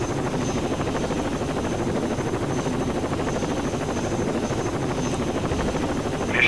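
Steady rotor thrum of a helicopter in Rainbow Six Vegas, continuous and fairly loud throughout, with a constant droning hum and no voices.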